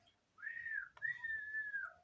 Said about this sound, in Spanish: También podemos silbar así.